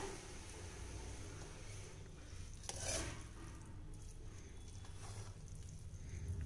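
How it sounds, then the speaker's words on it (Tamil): Cooked bottle gourd rice with black-eyed peas being stirred and mixed in a pot: soft, quiet scraping and turning, with a brief louder scrape partway through and no talking. "இது நல்லா நம்ம கலந்து விட்டுறலாங்க."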